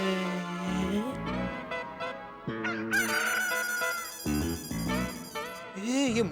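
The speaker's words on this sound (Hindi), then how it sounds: "ये मुर्गे की आवाज तो इस फोन में से आ रही है।" A phone ringtone of a rooster crowing, loud and close, repeating drawn-out cock-a-doodle-doo calls with a bright, slightly electronic tone, heard alone.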